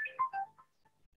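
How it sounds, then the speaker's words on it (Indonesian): A phone ringtone plays a brief, faint descending melody of a few notes, heard alone during a lecture. "Bentar ya, boleh saya angkat telepon."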